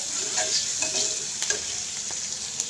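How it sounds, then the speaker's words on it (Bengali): Leafy greens fry in a pan with onion and garlic, giving a steady, moderately loud sizzle with a few soft clicks and stirring scrapes, and no voices. "শাক ভাজি বসিয়ে দিয়েছি"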